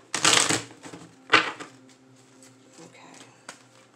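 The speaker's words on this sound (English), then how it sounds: "Shuffle again." Tarot cards are shuffled close by, giving two loud riffling bursts followed by softer card clicks and light handling noises.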